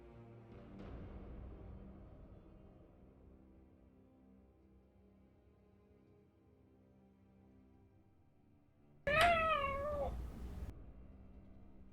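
Pet cat meowing while its belly is rubbed: one clear, close meow with a bending pitch comes near the end, after a long, quiet stretch with faint low background hum.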